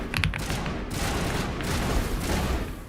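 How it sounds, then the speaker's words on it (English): Sustained gunfire in the Mass Effect video game, a dense, continuous wash of shots and blasts with brief sharper cracks near the start, loud and steady throughout. "Who the hell's shooting at us?"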